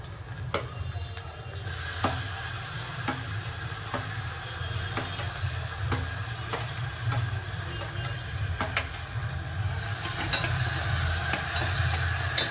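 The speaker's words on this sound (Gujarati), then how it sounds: "મરચું ચટકી જાય ને થોડું, મીન્સ કે ચટક ચટક થઈ જાય" Chili dropped into hot oil sizzles and crackles steadily, with sharp pops and spoon scrapes against the pan while a tomato, bottle gourd and cabbage dish is cooked; no voices.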